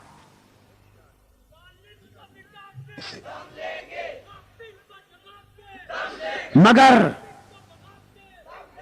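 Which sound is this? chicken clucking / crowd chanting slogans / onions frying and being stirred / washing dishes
crowd chanting slogans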